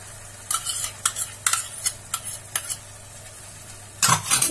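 A spoon stirs a Manchurian sauce mixture of vinegar, soy sauce and tomato sauce in a pan, making bursts of scraping and clinking strokes in an uneven rhythm, close up and with no talk.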